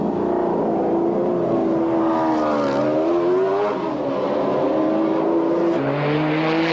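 GT race cars in the 1995 BPR Global GT Series, including the Harrods McLaren, racing at Donington, with loud continuous engine roar and shifting, rising and falling revs, close and unbroken throughout.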